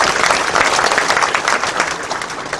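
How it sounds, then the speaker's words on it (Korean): An indoor crowd of church elders at a general assembly claps steadily, a dense, moderately loud wash of applause with no talk. "박수 부탁드립니다."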